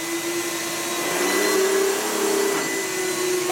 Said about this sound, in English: I can't get enough of that sound. Thing just sounds sweet.